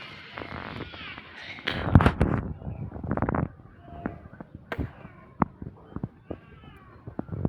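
A cat stuck up high and unable to climb down meows loudly a few times near the start, followed by scattered sharp knocks and thumps with quieter sounds between.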